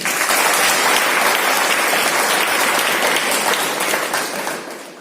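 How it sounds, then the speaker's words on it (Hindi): A seated crowd at a business presentation claps together, a loud, dense burst of applause that holds steady before tapering off toward the end. "एक बार जो ताली आपने बजाई।"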